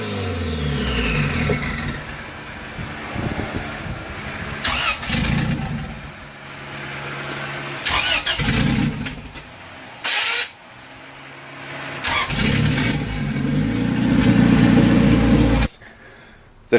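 A boosted car engine fresh from a dyno break-in tune runs and revs, rising and falling in several loud bursts with idle stretches between, then cutting out abruptly near the end.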